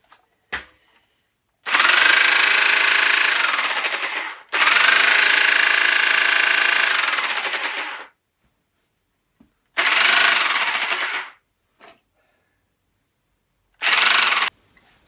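A repaired Qualcast electric hedge trimmer runs in four bursts, two long buzzing runs of a few seconds each and then two shorter ones, with silence between them and no talk.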